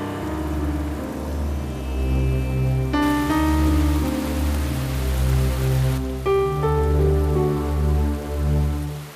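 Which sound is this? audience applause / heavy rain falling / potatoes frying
heavy rain falling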